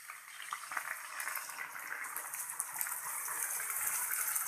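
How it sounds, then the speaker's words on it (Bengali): Water poured into a hot frying pan over fried ingredients, a close bubbling, splashing gush that grows fuller and steadier toward the end, fairly quiet overall. "পরিমাণ মতো পানি দিয়ে দিব।"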